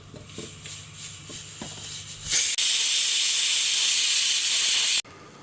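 Steam hisses loudly and steadily from food heating under pressure in a home kitchen, bursting on after a couple of seconds of quieter activity, holding strong for about two and a half seconds, then cutting off abruptly.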